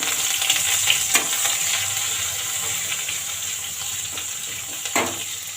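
Cumin seeds, green chili and curry leaves frying in hot oil in a home kitchen, a steady close sizzle with crackles and sharper pops throughout, no talking.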